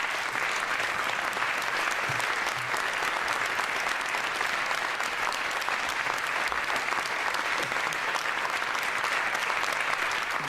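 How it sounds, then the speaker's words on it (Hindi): Audience at a live Hindi kavi sammelan (poetry gathering) in Lucknow applauding steadily, dense continuous clapping that fills the whole stretch at a moderate, even level with no talk over it. "एक बार आप लोग अच्छी सी तालियां बजाइए।"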